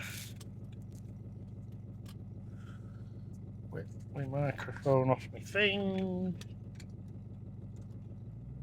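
A Triumph Stag V8 engine runs at a steady, low, even rumble under a parked car's cabin talk, with someone speaking briefly over the engine note partway through.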